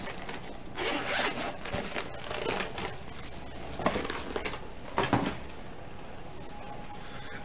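Zipper on a Nintendo Switch carrying case being pulled, several quick close zips separated by short pauses, with faint handling noise between them.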